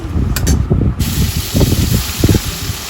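Dried red chilli, black mustard seeds and chopped garlic sizzle in hot oil and butter in a kadai, a steady close hiss with bursts of spattering and crackling pops throughout.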